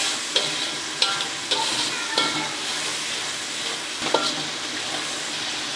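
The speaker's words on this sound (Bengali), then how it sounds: "এখন আমি ভালো করে কষিয়ে নিব।" Spices for a pangas fish head and bottle gourd curry sizzle steadily in a pan, with occasional sharp clicks and scrapes of a stirring spoon over the continuous frying hiss.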